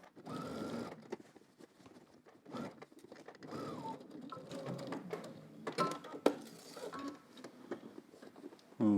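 A home sewing machine stitches a polo shirt seam in quick bursts of rapid mechanical chatter, stopping and starting, fairly quiet and close, with faint handling noises between runs.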